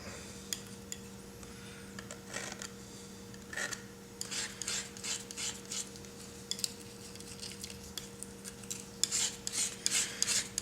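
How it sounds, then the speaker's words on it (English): A palette knife scrapes paint back off a palette, producing short intermittent rasping scrapes that grow busier and more rhythmic toward the end, close up over a faint steady hum, with no speech. "So I'm going to scrape this back out."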